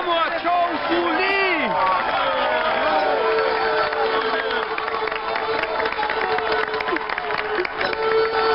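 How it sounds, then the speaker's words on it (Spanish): A crowd clapping and cheering, with excited voices and whoops mixed into the applause throughout. "Ahora, demos un aplauso a mi nuevo jefe."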